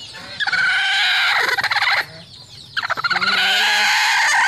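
A hen clucks in short, rapid bursts close by, mixed with a chorus of high, thin peeping from newly hatched chicks, pausing briefly midway.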